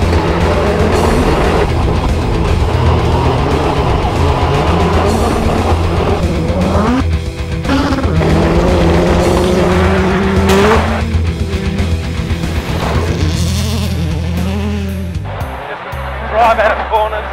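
A Hyundai i20 WRC rally car launches and drives a hot lap, its engine rising and falling through gear changes with tire squeal and bumps, loud and close, with voices at times.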